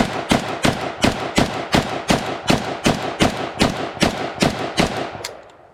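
Yugoslavian AK47 rifle firing a rapid string of about fourteen loud, evenly spaced shots outdoors, each with a sharp crack and a short echoing tail, ending in a fading decay.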